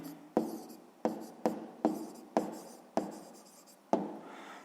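A pen writes on paper during a sixth-grade maths exercise, with a series of about seven sharp, close scratchy strokes, each starting abruptly and fading, heard alone.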